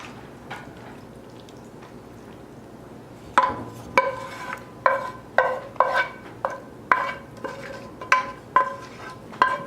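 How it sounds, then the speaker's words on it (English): Food stirred in a pan after a sauce is drizzled over the top, a steady run of sharp scraping and clinking strokes in quick rhythm that starts after a quiet stretch, close and fairly loud. "And then we are gonna stir"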